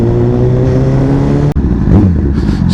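A 2016 Honda CBR1000RR Fireblade 1000cc inline-four sports bike engine revs up loud and close, a steady high harmonic drone that briefly cuts out and then rises again.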